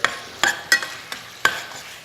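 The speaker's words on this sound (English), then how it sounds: "this pan was warm, there was a little sizzle." Soft sizzling of oil and butter in a pan on an induction cooktop, broken by a few sharp scraping taps from a utensil stirring at an uneven rhythm.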